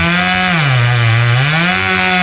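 Old, hard-run Stihl 390 chainsaw with a 25-inch bar and full chisel chain cutting into a big oak tree, a loud, steady harmonic engine whine that dips in pitch under load midway and then recovers, continuous and alone.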